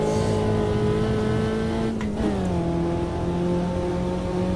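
Racing car engine in the Automobilista 2 sim racing game, a steady loud drone held throughout, with the pitch dipping briefly as it shifts or lifts before settling back to a constant hum.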